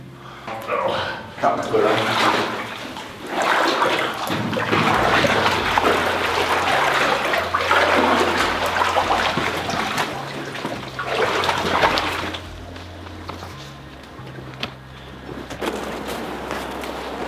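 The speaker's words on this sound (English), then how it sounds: "so you see how they diverted the water from up above, the creek up above" Creek water diverted down a chute outdoors, a continuous rushing, splashing flow heard close up, with people talking over it throughout.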